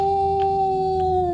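Dog in a Dutch-language playthrough of the puzzle game Bilkins' Folly, Shattered Peak Aztec Ruins level: a steady, sustained synthetic howl-like tone holding for over a second, loud and alone.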